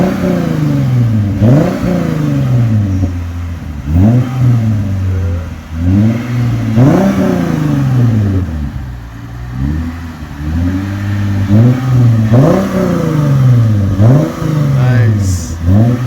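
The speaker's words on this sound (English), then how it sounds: "Let me rev it up a little bit and let me know what you think." A Lexus IS350 V6 with a new axle-back exhaust revs repeatedly from idle, each loud rising blip falling back quickly in a regular series of about seven revs, close and dominant, with a raspy exhaust tone.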